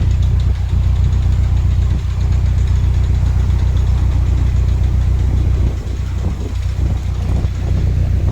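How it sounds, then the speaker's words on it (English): A boat engine chugs loudly and continuously with a low, knocking rumble, staying strong and close throughout. "Oh, the boat we rescued is on its way."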